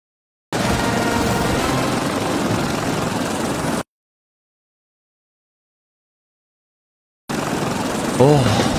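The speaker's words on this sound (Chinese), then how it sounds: "新打造的飞机果然很快" Propeller airplane engine in a video game, a steady droning hum running for about three seconds, cutting to silence, then resuming near the end.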